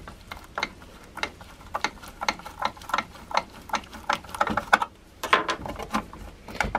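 A Phillips screw being turned out of a kitchen scale, heard as a close series of small rhythmic ratcheting clicks and squeaks from the screwdriver, fairly quiet and steady.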